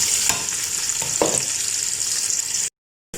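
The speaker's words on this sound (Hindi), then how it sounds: "अब हम इसमें प्याज डाल देते हैं और प्याज को ब्राउन होने तक फ्राई करेंगे" Sliced onions fry in hot oil in a pot for chana pulao, giving a steady close sizzle with a couple of stirring scrapes, before cutting off abruptly into silence.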